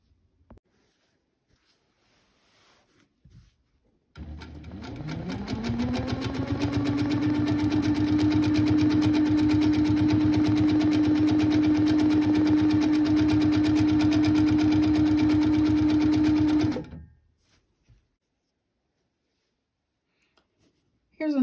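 A sewing machine stitching free motion quilting on a practice panel runs fast and steady for about twelve seconds with a rapid mechanical whir and needle chatter, starting and stopping cleanly amid near silence.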